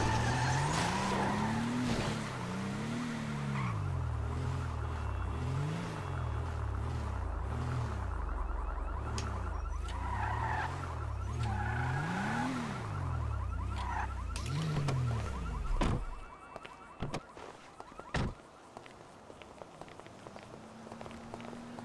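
Car tyres skidding and squealing in Grand Theft Auto V as a car is reparked, with repeated rising and falling screeches over a steady engine drone for about fifteen seconds, then quieter scattered sounds.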